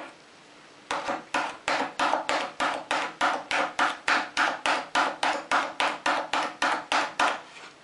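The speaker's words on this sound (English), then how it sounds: "pounding the metal against itself" A hammer pounds the edge of a metal card scraper against itself on the edge of a workbench, about twenty evenly spaced ringing blows in a steady rhythm, close and loud with no talk.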